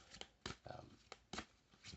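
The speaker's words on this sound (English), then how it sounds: "as you can see here, I am shuffling up" A deck of tarot cards is shuffled by hand, with several quick riffling bursts in an irregular rhythm, close and fairly soft, with a faint voice in the background.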